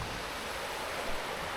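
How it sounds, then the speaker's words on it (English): A river in the Yorkshire Dales near Kettlewell rushes steadily, a constant broad wash of flowing water with a little wind noise, close by and unbroken. "And here's the river."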